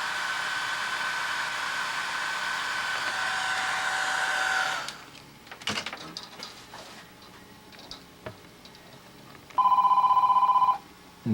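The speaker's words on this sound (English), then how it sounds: "In fact, the phone's ringing." Telephone ringing briefly and loudly near the end, a short electronic burst after a long steady whirring noise and scattered knocks from epoxy crack repair work on a Windy Strega.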